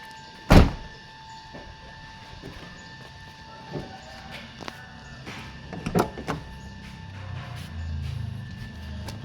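A car door on a 1990s Mitsubishi Eterna GTi facelift opens and shuts as someone climbs out, giving one sharp close thunk early on, then softer clicks and a second cluster of knocks over faint background rumble.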